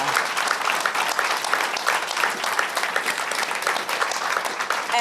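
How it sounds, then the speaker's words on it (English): An audience at a science lecture applauds its panelists, a steady dense wash of clapping from a seated crowd lasting several seconds without talk. "Can we please give them a round of applause?"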